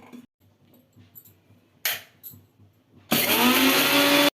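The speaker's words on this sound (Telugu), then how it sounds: "పోపు మిక్సీలో వేసుకోండి పోపు నలగాలి బాగా" A kitchen mixer grinder whirs loudly for about a second as it grinds fried tempering spices, following a few soft clicks and knocks of handling the jar.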